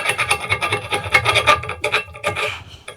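A flat file reaming the end of a metal pipe, quick repeated rasping strokes, close and loud, steady scraping rhythm with no talk.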